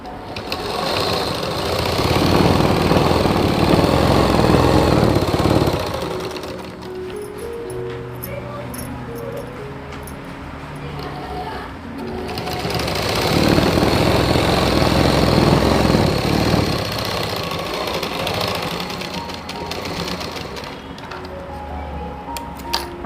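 A sewing machine stitches a blouse, its motor whirring loudly in two long runs with a softer, slower hum between them, close and steady.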